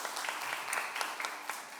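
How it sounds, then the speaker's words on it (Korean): A church congregation applauds the volunteers at a Sunday service, a steady wash of many hands clapping heard from a distance, with a few sharper claps standing out. "이렇게 기진맥진할 정도로 정성을 쏟은 우리 봉사자들에게 큰 박수 한번 보내도록 하겠습니다."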